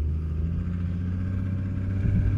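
A ZAZ-965 Zaporozhets fitted with a locking differential taken from a Nissan Terrano/Patrol drives along with a steady, close, low engine drone that stays even throughout, with no voices.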